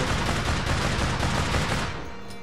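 Rapid gunfire from an RSA rifle in the online shooter APB Reloaded, a dense, loud burst of shots that fades into a quieter tail near the end, with no talking.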